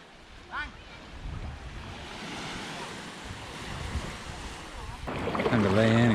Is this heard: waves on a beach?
yes